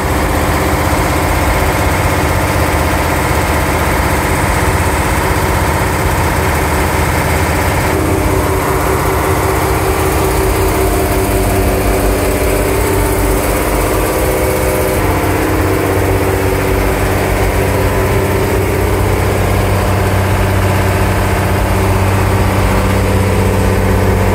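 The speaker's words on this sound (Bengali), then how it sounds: "লঞ্চের নিচের তলায় অনেক শব্দ।" Loud, steady engine roar fills the lower deck of a passenger launch travelling from Netrokona to Sunamganj, a continuous droning rumble with rattling vibration, shifting slightly in tone partway through but never letting up.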